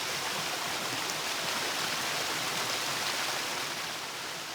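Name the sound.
loud waterfall in the video game Gothic II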